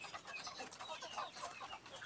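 A pair of native chickens, rooster and hen, making quiet, repeated clucks and chirpy calls, faint and close by, with no one talking.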